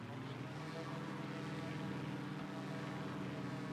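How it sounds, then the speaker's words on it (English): Simulated ducted fan engine of an Edgley EA-7 Optica aircraft in a flight simulator throttles up, giving a steady, dense buzzing drone that holds evenly throughout at low volume. "it has a very sort of weird wasp buzz sound on it"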